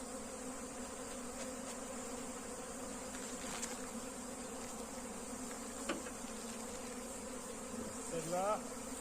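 Honeybees from a drone-laying hive being handled buzz steadily and densely at close range, a continuous insect drone with a few louder passes near the microphone.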